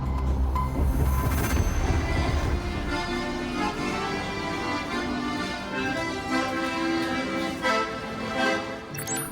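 Train travelling through Poland from Kraków, a steady rumbling of wheels on rail with a low mechanical drone and occasional clanks from inside the carriage.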